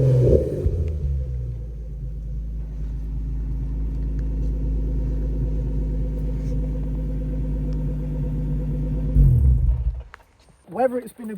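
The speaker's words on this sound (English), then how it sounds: "we'll turn it on for you now, so you can hear it start," A Nissan 350Z engine fires up with a brief surge, then settles into a steady, deep, close idle rumble that holds for several seconds before cutting off, followed by a short voice.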